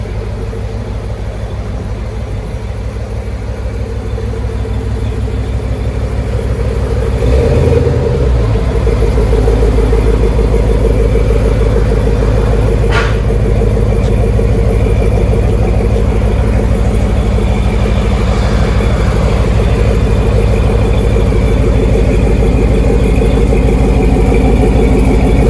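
An LS4 V8 in a Pontiac Fiero-framed Gagliardi Design Vendetta idles through its exhaust, a loud, close, steady low rumble that swells slightly around eight seconds and then holds.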